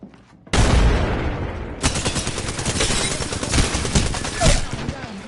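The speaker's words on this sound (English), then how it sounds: "Oh, they're shooting at me." Enemy gunfire in Apex Legends arena combat erupts after a brief lull into dense, sustained bursts of automatic shots, loud and continuous, with a player's voice speaking over the barrage.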